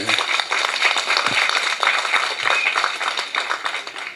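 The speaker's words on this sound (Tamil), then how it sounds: "கைதட்டு சத்தத்தையே காணுங்க." A crowd claps at a 61st birthday function, sustained and dense applause filling the hall, with a low voice briefly breaking through near the start.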